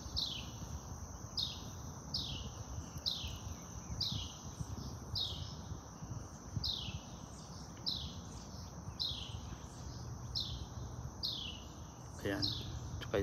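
Birds call in a lakeside park at Crabtree Lake County Park, North Carolina: a high chirping phrase repeats at an even rhythm, faint and steady over a soft outdoor hum.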